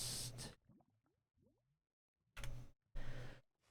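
A person sneezes, three sharp, breathy bursts: one at the start, then a quiet gap with faint small sounds, then two more in quick succession, fairly close.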